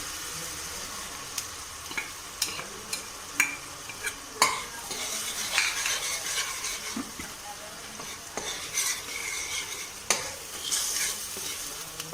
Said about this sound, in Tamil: ரெண்டு நிமிஷம் இந்த மசாலா வதங்க விட்டுறணும்.